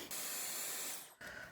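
A Dyson Airwrap hair styler switching between hot and cold air gives a steady, close airflow hiss that cuts out briefly and then resumes.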